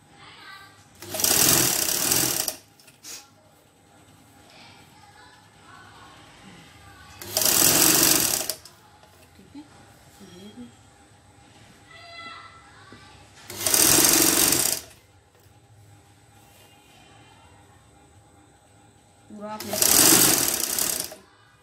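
Sewing machine stitching fabric pieces together for shurag stitching, running in four loud, steady bursts of about a second or two each, separated by quieter pauses where a person talks.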